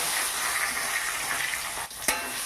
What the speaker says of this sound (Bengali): একটু নেড়ে চেড়ে এটা ভেজে নেব।